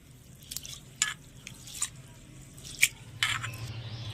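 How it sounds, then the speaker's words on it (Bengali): Sago pearls being washed in water in a bowl, with a few scattered drips, splashes and wet squishes against quiet background, no talking. "এবারে দিয়ে দিচ্ছি জল, আর এই জলটা দিয়ে সাবুদানাটা একটু ভালো করে ধুয়ে নেব।"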